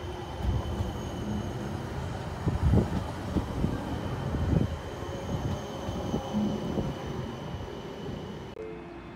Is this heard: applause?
no